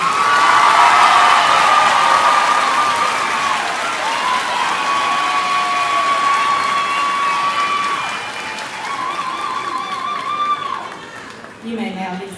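An audience at a 2023 high school graduation ceremony applauds a row of graduating students, with loud sustained clapping mixed with cheers and whoops that slowly taper off.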